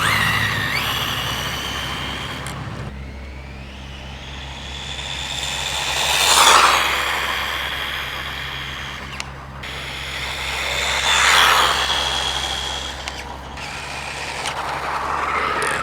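A RLAARLO AK-787 RC car on a 2S battery screams past at full throttle, two rising and falling high-pitched motor whines sweeping by, with steady wind and ambient noise between passes.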